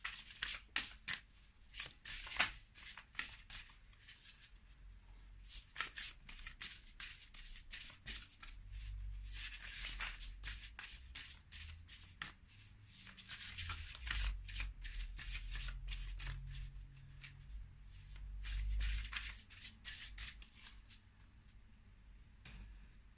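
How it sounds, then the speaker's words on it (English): Tarot cards are shuffled by hand, close and quiet, in repeated bursts of soft riffling and slapping with brief pauses between them and no talking. "Let's pull one more card."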